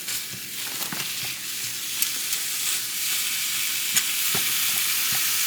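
Seasoned meat for breakfast burritos sizzles steadily in a pan as it is broken up, with a constant frying hiss and occasional light scraping clicks from a utensil.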